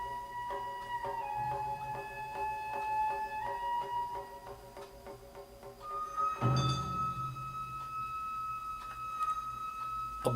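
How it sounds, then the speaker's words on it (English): Gagaku court music with sustained wind tones and a low drone, punctuated by sparse percussion strikes and a bright metallic hit about midway, followed by a steady held pipe note. "This segment here is to be played by some percussion, some drums, maybe you hear a metal sound right there"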